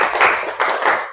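A classroom of students clap in a quick rhythmic pattern, with three bursts of hand claps in close succession and no voices over them.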